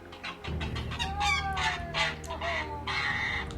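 A goose on a farm greets its owner with a rapid series of loud, close honking calls that come in uneven bursts over a steady outdoor background.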